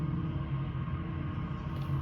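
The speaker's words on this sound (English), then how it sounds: "sorry, that was motorcycles." Motorcycles passing outside a building, a continuous low engine rumble heard through walls, steady and muffled without distinct revs.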